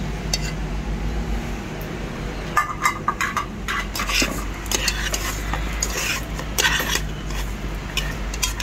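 Marinated pork being stirred and tossed in a metal pot, with spoon scraping and clattering against the sides in irregular bursts over a low background hum, close and fairly loud.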